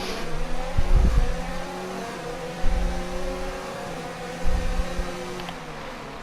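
Formula 1 cars accelerate off the line at the start of the Bahrain Grand Prix in the F1 2019 video game. Layered high engine whines rise and hold, with low rumbling surges returning at intervals.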